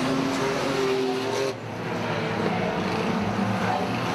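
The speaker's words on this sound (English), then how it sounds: "there's three of them together now racing for the last two places as Randall gives Rawlins a tickle" Banger racing cars at Arena Essex, a Granada bangers heat, with several engines roaring together in a dense, steady drone that dips briefly mid-way, loud and continuous.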